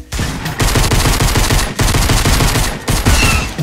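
Loud, sustained automatic gunfire from a Fortnite match, rapid bursts rattling almost continuously with a couple of short breaks between volleys.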